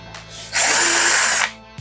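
A power screwdriver backs out screws from the front cover of a Scotsman ice machine, giving one loud, close, steady whirring burst of about a second, with a low mechanical hum underneath before and after.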